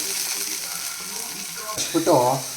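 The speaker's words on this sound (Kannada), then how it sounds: "ಈರುಳ್ಳಿ ಚೆನ್ನಾಗಿ ಫ್ರೈ ಆಗಬೇಕು" Chopped onions sizzle in a pan for an Indian home-style vegetable dish, a steady soft frying hiss throughout with a short burst of voice near the end.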